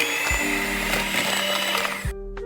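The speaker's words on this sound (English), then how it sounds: "we're going to mix it with my little hand mixer right over there" A small electric hand mixer whirs steadily through cake batter with eggs, a continuous close motor drone with harmonic whine and rattling beaters, stopping abruptly near the end.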